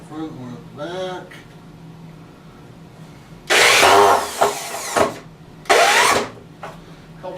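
A power drill with a long bit bores through wood during electrical rough-in work, two loud bursts of high grinding whir separated by a pause, with someone talking briefly before.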